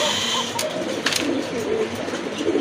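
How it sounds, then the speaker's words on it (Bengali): A pair of red Mushaldom pigeons for sale coo softly amid a busy background hum, with a few brief higher calls in between. "দেখেন কত সুন্দর এক জোড়া মুসালদম কবুতর"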